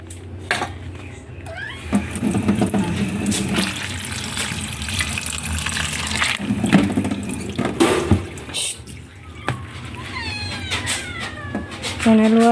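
Water runs from a tap into an opened can of salmon being prepared for several cats, a steady splashing hiss under a person talking, with cats meowing nearby and occasional clinks of metal and dishes.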